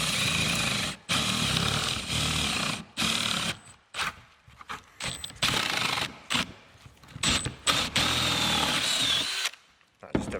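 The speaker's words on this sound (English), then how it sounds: "We can line it up with the point of our tool again and neatly drill it from the other side" A Famag Bormax 50mm Forstner bit bores into wood in loud, close bursts of grinding whir, broken by brief pauses as the drill stops and restarts.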